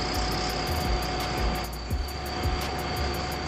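A tractor engine idles in Farming Simulator 19 with a steady low diesel rumble and faint rhythmic chugging, close and continuous for a few seconds, no one talking.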